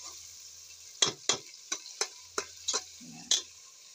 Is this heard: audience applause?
no